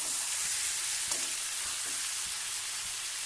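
Cauliflower roast sizzles in oil in a pan, a dense, even hiss of frying that holds steady throughout with faint low bumps beneath.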